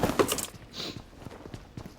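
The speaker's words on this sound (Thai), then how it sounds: "อย่างแรกนี่ต้องฟังเสียงเท้าเลยนะทุกคน" Footsteps from the PUBG video game on the Sanhok map tap in a steady series of soft, close thuds, preceded by a brief louder clatter.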